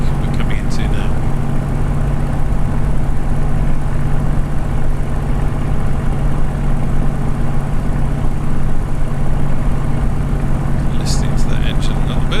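Warbird aircraft engine in Microsoft Flight Simulator, flying near Loch Rannoch on a Newcastle to RAF Lossiemouth route, droning steadily and loudly throughout with a constant low hum.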